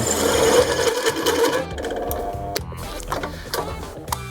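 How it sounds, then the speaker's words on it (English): A small, underpowered power drill whirs and chatters in uneven bursts, grinding steadily through a clad San Mai steel knife blade at close range. "It's a bit weird drilling this still because it has the cladding on the outside"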